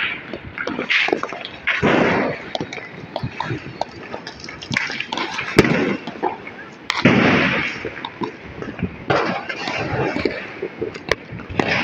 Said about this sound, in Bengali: এরা সব মসজিদে বাজি ফুটাচ্ছে